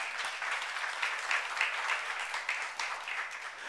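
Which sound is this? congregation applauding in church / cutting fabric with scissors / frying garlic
congregation applauding in church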